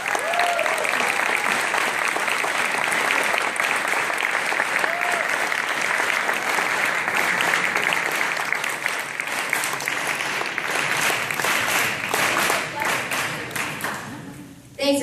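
An audience gives a warm welcome to the Torricella family with sustained, dense applause that holds steady and loud for about fifteen seconds, thinning slightly near the end.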